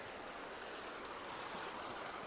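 A river rushes past the edge of a campsite, a steady broadband wash of flowing water heard close and continuous with no voices.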